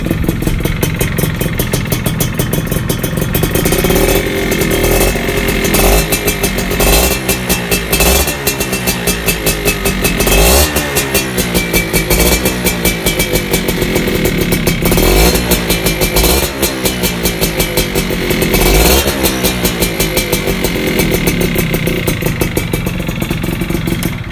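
A motorcycle engine runs steadily and close, with repeated revs rising and falling in a rhythmic pattern over a constant mechanical clatter, with no talking.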